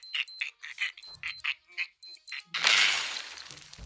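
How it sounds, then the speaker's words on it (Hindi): A child's wristwatch alarm goes off in a school exam hall, beeping like a bomb timer in a quick series of about a dozen short, evenly spaced electronic pips, then cut off by a loud, noisy burst. "उधर एक बच्चे की घड़ी का अलार्म बज गया और वो बजता भी बॉम्ब के टाइमर जैसा है"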